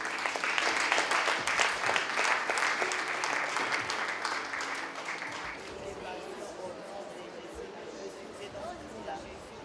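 A church congregation at a French-language worship service breaks into loud, dense applause mixed with voices and cheering, then tapers to a softer murmur of chatter.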